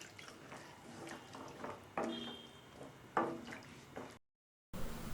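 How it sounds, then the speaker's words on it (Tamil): Water is added to a simmering chana masala gravy in a pan. Soft splashes and light bubbling build into a few sharper liquid bursts, then a brief silence before quiet bubbling resumes. "இப்போ இதில் இந்த மசாலா வேகிற அளவுக்கு மட்டும் கொஞ்சமாக தண்ணி சேர்த்து"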